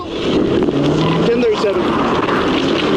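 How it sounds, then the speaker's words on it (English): Loud, continuous roar of a car speeding away from police during a pursuit, heard close from inside or near the vehicle, with a voice talking over it. "Carline suddenly put the vehicle in drive and fled, triggering a pursuit"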